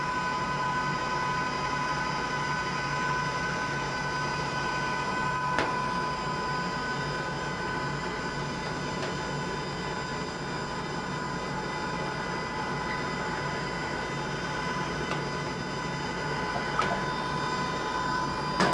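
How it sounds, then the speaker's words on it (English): Electric mixer blending vanilla and egg into batter, a steady continuous mechanical whir with a constant motor hum that runs throughout, loud and near. "Now we're going to add our vanilla and our egg and allow that to mix in."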